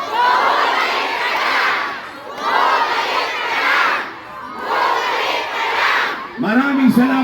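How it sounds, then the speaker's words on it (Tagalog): A large outdoor crowd in Manila shouting together in unison, three loud swelling chants in a steady rhythm, each rising and fading before the next, ending with a brief voice. "Sabay-sabay tayo sumigaw."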